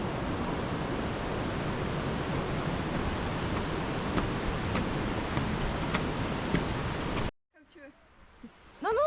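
A small waterfall on the Wairere Falls trail in New Zealand gives a steady broadband rush of falling water, close and continuous, with faint ticks, before cutting abruptly to quiet near the end.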